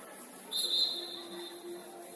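A referee's whistle gives one short, fairly bright blast at a women's league cup football match between FHL and Víkingur, rising above a quiet, steady background hum.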